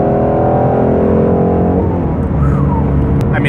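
A 2018 Ford Mustang GT350 with a Lund tune accelerates hard, its loud engine drone rising in pitch before a brief dip as it shifts into fourth gear, then pulls on.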